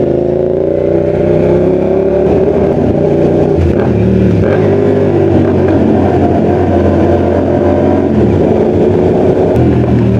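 A group of seven motorcycles riding together, a loud, constant engine drone with shifting pitch as throttles rise and ease, close and unbroken throughout.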